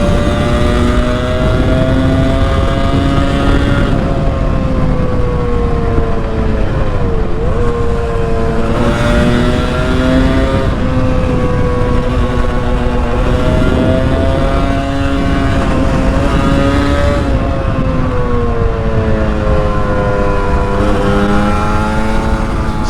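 A 1981 Yamaha RD350 LC two-stroke motorcycle being ridden on the road, its engine note loud and close, rising and falling through repeated revs and gear changes over a constant rush of wind.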